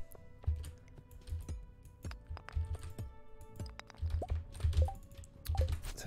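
Computer keyboard keys tapped while playing Stardew Valley, a quiet irregular run of close, soft clicks in uneven bursts with brief pauses, no talking.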